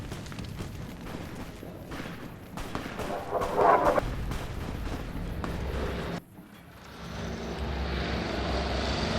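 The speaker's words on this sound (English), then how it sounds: "And here's our plane coming in." A propeller airplane flies in during a video game, a steady engine drone with a brief swell midway, then a sudden dip and a continued hum; no talking.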